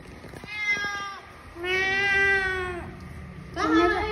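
A cat meowing, three drawn-out, close, clear meows separated by short pauses, the last higher and more insistent, with faint background noise and people talking nearby.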